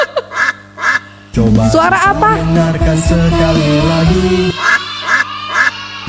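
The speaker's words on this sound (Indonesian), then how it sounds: "itu suara bebek." A burst of loud, raspy duck quacks in quick succession, framed by brief bits of speech before and after.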